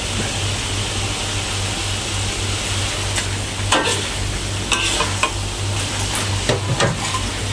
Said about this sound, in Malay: masukkan ikan yang dah digoreng kan